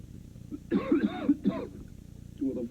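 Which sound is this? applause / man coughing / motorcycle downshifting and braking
man coughing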